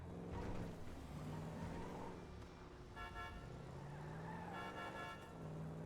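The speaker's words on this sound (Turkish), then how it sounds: "Bu korna da çok iyi." Car horn honking in GTA 5, two short toots over a steady engine hum in game traffic, fairly quiet and with no voices.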